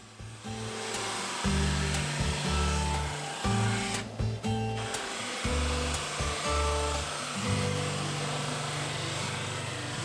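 Drum sander running loud and steady as walnut, sapele and ash boards are fed through for thicknessing, its low motor hum rising and dipping with each board pass, with a short quieter gap midway.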